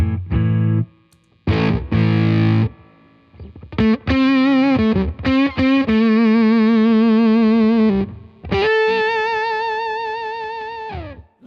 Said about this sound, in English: it just gives you a really kind of floating in the background octave fuzz tone